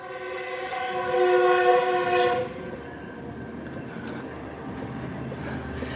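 A metro train passes close by with a loud, sustained horn-like harmonic tone for the first couple of seconds, then a steady rumble of rail noise continues.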